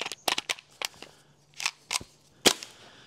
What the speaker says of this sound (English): let's just try this guy with the standard propane loaded airsoft magazine